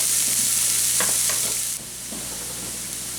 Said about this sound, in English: Add your onions. Fry them up for about 5 minutes.